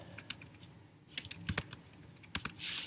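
Quick, irregular keystrokes clatter on a computer keyboard, close by, with brief pauses between bursts and a louder rustle at the very end.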